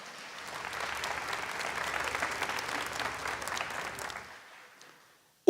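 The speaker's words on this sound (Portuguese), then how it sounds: "Pronto, amém, aplauda." Church congregation at a Catholic Mass applauds together in a steady, dense clapping burst that holds for several seconds, then tapers off and fades to near silence.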